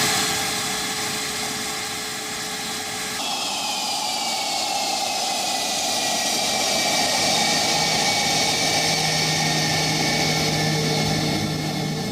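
A Sukhoi Su-35 fighter jet's engines give a loud, continuous roar with a high whine that shifts in pitch as it passes, steady throughout with no voices.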